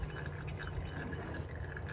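Transfer case oil drips from a vehicle parked on level ground in a garage. A faint, steady patter sits under a constant low background hum.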